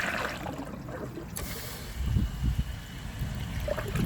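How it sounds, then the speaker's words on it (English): Water trickles and gurgles into the tank of a clogged 1998 Eljer Savoy toilet, a steady close fill sound with a brief hissing surge, no voices. "I'm just going to wait for a little bit more water to get in the tank so I can fully empty it"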